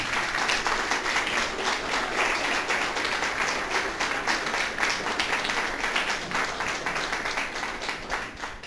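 A church congregation at an Easter service applauds together in a dense, steady wash of clapping that fills the room, holding strong throughout before easing slightly at the end.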